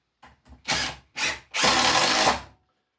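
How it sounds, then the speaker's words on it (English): Power drill driving 2-inch screws into a wooden piece of a shaving horse: three close bursts of whirring, two short and one long, with brief pauses between. "that piece that I'm screwing into"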